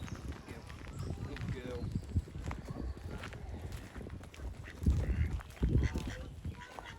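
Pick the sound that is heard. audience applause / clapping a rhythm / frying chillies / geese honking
geese honking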